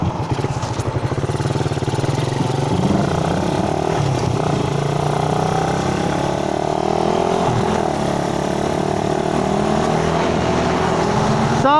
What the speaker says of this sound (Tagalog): maririnig nyo, naka open pipe si Sir Clyde